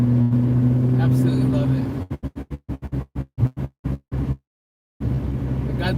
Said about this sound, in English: The note to this car sounds so good